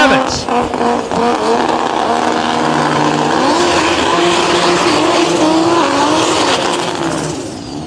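Drag race cars blast down the strip on a qualifying pass at around 182 mph, a loud sustained engine roar with rising pitch and a tire-squeal edge that fades slightly at the end.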